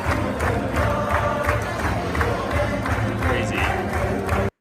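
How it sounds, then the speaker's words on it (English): A synagogue crowd gives Netanyahu steady, continuous applause mixed with cheering and murmuring voices, a dense and loud wash of clapping that holds without a break until it cuts off abruptly. "we're just seeing continuous applause and praise for this man"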